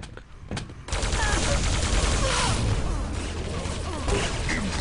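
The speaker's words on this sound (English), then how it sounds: "Q50 is going to be obliterated by the shotgun player there" Shotgun blasts and gunfire ring out in a Quake match, a dense, loud burst of shots and impacts that begins about a second in and keeps going without a pause.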